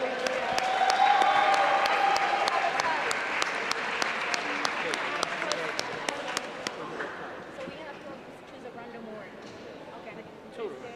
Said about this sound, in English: Please give a round of applause for our students from 11th grade.